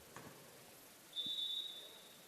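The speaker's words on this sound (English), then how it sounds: "And we've got a whistle." A referee's whistle at a high school basketball game, one short clear blast that trails off faintly, following a couple of soft thumps in a quiet gym.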